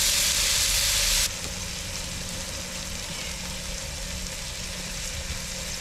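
Double cheeseburger patties topped with cheese sizzle steadily on a hot griddle, a continuous close hiss that is louder for the first second and then settles to an even, softer fry.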